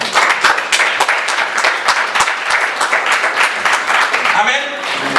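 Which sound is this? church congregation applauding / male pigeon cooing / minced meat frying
church congregation applauding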